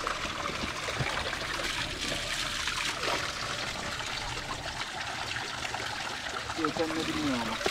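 Water trickles and splashes steadily into a bottle at a roadside tap during a bikepacking ride, a continuous close gurgling stream with someone talking over it.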